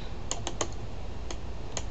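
Scattered keystrokes on a computer keyboard during a quick online search, a few sharp taps clustered together and then two more isolated clicks, light and close against a quiet room hiss.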